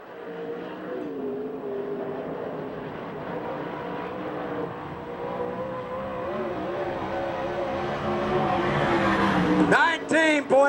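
Damian Gardner's number 50 sprint car, the Demon, on a USAC/CRA qualifying lap at Manzanita Speedway, its engine droning steadily through the lap and swelling to a loud, sharp roar at the end.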